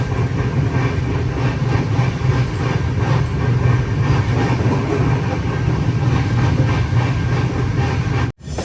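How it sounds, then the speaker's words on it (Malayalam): A Humsafar Express runs at about 110 km/h between Shri Ganganagar and Tiruchchirappalli, heard from inside a 3AC coach as a continuous loud rumble with rhythmic wheel clatter, ending in an abrupt cut. "ട്രെയിൻ പോകുന്ന സ്പീഡ് കണ്ടാ 110 km/h തന്നെയാണ്"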